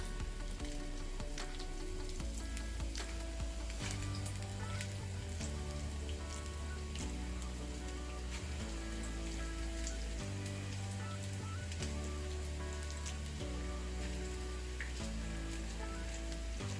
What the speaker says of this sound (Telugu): ఇది ఇప్పుడు పకోడీలాగా వేసుకోవడం ఆయిల్లో. మీడియం ఫ్లేమ్ మీద పెట్టి వేయించుకోవాలి